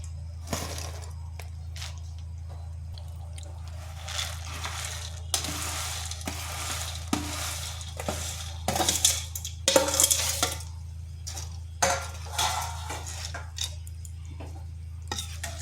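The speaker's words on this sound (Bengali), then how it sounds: "এরপর চিনির সিরাপের সাথে ভালোভাবে মিশিয়ে নিচ্ছি।" Boondi is stirred into sugar syrup in a pan, a spoon scraping and clinking against the metal in irregular bursts over a steady low hum, close and fairly clear, no voices.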